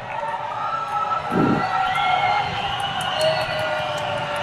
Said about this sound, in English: The crowd is absolutely deafening right now